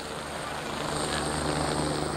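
Civil security rescue helicopter flying over the confluence of the Seine and Marne rivers, a steady loud rotor and engine roar holding throughout, with no talk.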